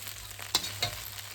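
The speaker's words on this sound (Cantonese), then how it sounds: "你再炒到你覺得佢夠熱到，咁就起鑊噶啦" Ho fun rice noodles with beef and fish balls stir-fried in a wok, a steady low sizzle broken by two brief louder scrapes of the spatula, close and with no voices.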